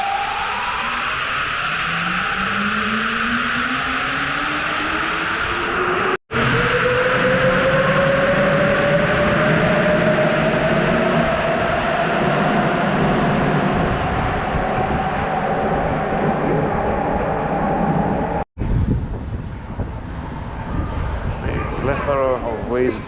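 A Sapporo subway train runs with a loud, steady rumble and a rising whine inside the car, broken by two brief dropouts, continuous throughout with no voices.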